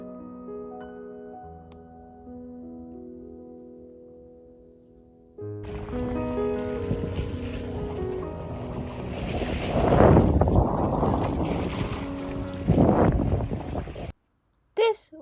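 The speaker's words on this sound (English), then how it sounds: "After a week in Porto Haley, it was time to move on and set sail to Poros." A sailboat under sail off Greece, with a loud rushing wash of wind and water rising after several seconds of quiet music, steady and close with surging swells.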